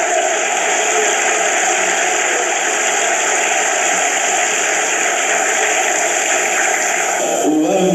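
A church congregation applauding, a loud dense continuous wash of clapping that holds steady throughout and cuts off abruptly near the end.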